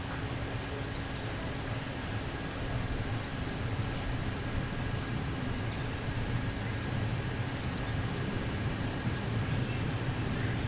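The Nanded Weekly Express, on the inaugural Dharmavaram–Nanded weekly run, sits at a station and gives off a continuous low rumble with a steady mechanical hum. The sound stays even and moderately loud throughout, with no voices.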